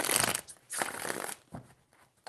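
A deck of tarot cards shuffled up close, two or three brisk papery bursts that fade toward the end, no voices.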